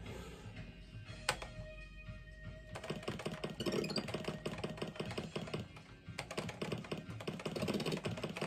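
Keys clacking steadily on a ZX Spectrum computer keyboard, a dense run of close, loud typing taps with a brief pause midway and no voices.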